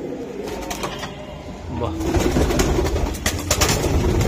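Racing pigeons coo nearby in a loft: soft, repeated throaty coos that grow fuller and busier in the second half, with a man's brief exclamation heard over them.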